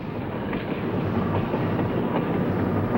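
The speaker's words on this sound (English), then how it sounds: "This is Train 17, a local from Concord, nearing the Oakland stop at the 40th and Shafter station" Sacramento Northern interurban electric train, a local from Concord, approaching the 40th and Shafter station in Oakland: a continuous close rumble of wheels on track with faint rhythmic clicks, steady and loud throughout with no voices.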